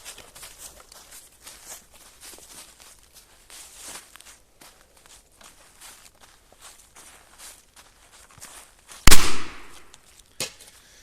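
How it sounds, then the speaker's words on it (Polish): A KORSARZ K0204-2 Hestia firecracker goes off under a light pot with one sharp, loud bang and a short rattling tail, preceded by soft footsteps and shuffling and followed by a smaller knock. "odpalamy petardę,"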